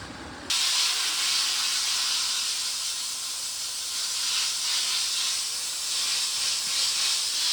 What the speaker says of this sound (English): So this wand is taking off a lot of the loose paint, and it's just a wand.